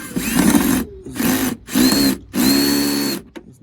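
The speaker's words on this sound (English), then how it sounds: "very weak setting on my drill right now" Power drill on a very weak setting, used while replacing the third brake light on a 2005 Nissan Pathfinder, whirring loudly in four short bursts with brief pauses between them.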